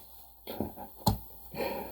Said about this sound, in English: like snapping your fingers, pow